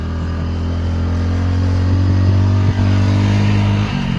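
A motorcycle labours up a steep hill road toward the Baba Balak Nath shrine, its engine giving a loud, close, steady droning hum that holds an even pitch throughout with only a slight dip near the end.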